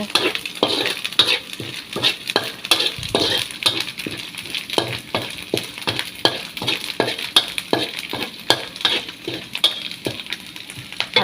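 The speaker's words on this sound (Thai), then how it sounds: "ผัดพริกแกงให้หอมก่อน" Homemade curry paste is stir-fried in a pan, with a close, busy run of repeated spatula scrapes and knocks over a continuous sizzle, keeping a fairly regular rhythm throughout without speech.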